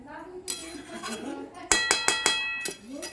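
A metal lid is set onto a pot of rice, giving a few sharp clinks that ring briefly, close by. Someone speaks softly just before.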